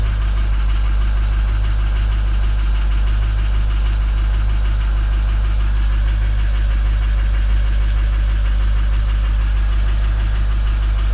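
A car engine on a cold start runs at a steady, loud idle with a deep constant drone and faint knocking texture, heard alone without voices.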